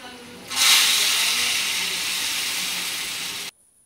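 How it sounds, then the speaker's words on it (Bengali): Hot tempering of onion and garlic fried until reddish, poured into mung lentil dal, bursting into a loud hissing sizzle that holds steady for about three seconds before cutting off. "লাল করে ভেজে নিয়ে আমি এখন সেই ডালের ভিতরে আমি ফোড়ন দিয়ে নিচ্ছি।"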